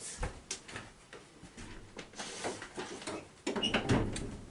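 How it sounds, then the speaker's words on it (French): A door being closed at home: a few soft knocks and bumps, then a louder, fuller thud near the end, moderately close with no talking. "je vais fermer ma porte"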